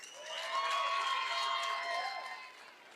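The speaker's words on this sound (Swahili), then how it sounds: "Tumpatie makofi akitoka" A crowd at a live public event in Nairobi applauds and cheers for about two seconds, swelling and then fading, with a few whoops mixed in.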